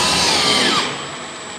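A power drill whirs loudly and close by as it drives screws to fix a drywall patch into a hole, its high pitch sliding down as the screw seats and the motor winds down.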